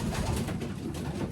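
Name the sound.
pigeons cooing in a loft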